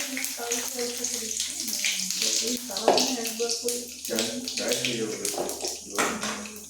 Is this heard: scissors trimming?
no